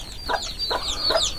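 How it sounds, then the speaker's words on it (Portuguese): Mother hen clucking near newly hatched chicks in a farmyard, three short soft clucks in quick succession over steady high thin chick peeping. "Aí eu vou mostrar pra vocês os pintinhos lá."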